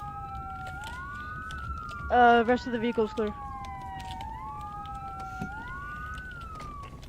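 Police car siren from a GTA roleplay video game, wailing steadily in a rising and falling sweep throughout, with a short burst of radio talk partway through.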